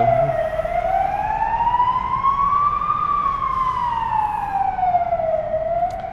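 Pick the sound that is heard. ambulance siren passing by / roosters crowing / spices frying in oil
ambulance siren passing by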